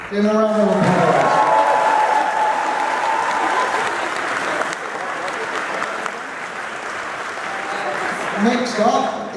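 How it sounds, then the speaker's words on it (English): A convention closing-ceremony crowd at AmeCon 2018 bursts into loud, sustained applause with some cheering; a voice speaks briefly at the start, then clapping dominates until talk resumes near the end. "Give him a round of applause."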